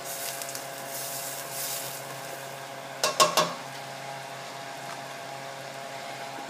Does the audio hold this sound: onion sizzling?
yes